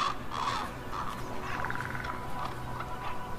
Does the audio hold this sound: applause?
no